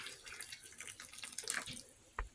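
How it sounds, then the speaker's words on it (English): Hot water is poured over potatoes in a kitchen to soak them, giving a steady splashing stream with a brief clunk near the end, and no voices. "Just going to pour some hot water on here."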